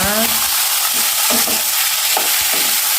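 Garlic and onion sautéing in a hot pan for chicken wing adobo, a loud continuous sizzle with rhythmic scraping strokes of a spatula stirring the mixture.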